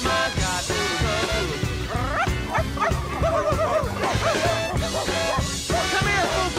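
A dog barks and yips in quick, uneven bursts, loud and close, mixed with a whimpering, voice-like quality that suggests a person may be imitating the barking.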